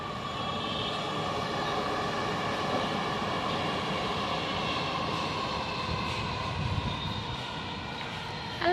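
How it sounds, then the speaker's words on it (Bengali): A train rumbles past a rooftop garden with a steady, loud, broadband roar that holds throughout, with no talk over it. "খালি যে ট্রেন যাচ্ছে আসছে, যে এখান দিয়ে ট্রেন যাবে"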